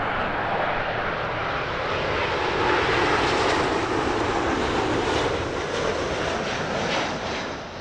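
An airliner landing at Heathrow roars overhead, a loud, broad, sustained engine rush that swells and then slowly fades.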